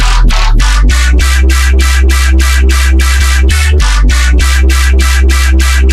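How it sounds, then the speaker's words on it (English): A loud, robotic vocoder-processed synth bass pulses in a rapid rhythmic chop, with stepped low notes throughout and no talking. "It's a pretty generic vocoder sound"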